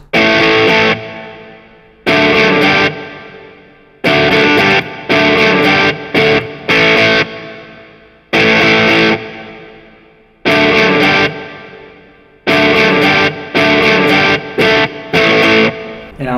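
Distorted electric guitar strums the chords of a rock song's verse in short bursts, several stop-start phrases with brief silences between, loud and close.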